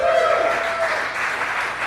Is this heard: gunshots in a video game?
no